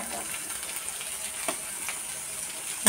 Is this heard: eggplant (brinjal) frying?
yes